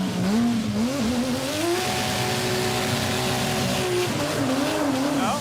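A 1968 Dodge Charger race car with a 440ci V-8 drives hard in first gear, its engine held on the limiter in a loud sustained drone that wavers and rises, heard from inside the car with tire noise underneath.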